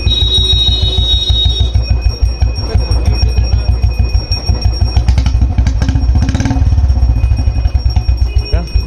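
A Royal Enfield Bullet 350 fitted with a Long Punjab exhaust idles close by with a loud, deep, steady thump-thump, its low-rpm pulses even and continuous.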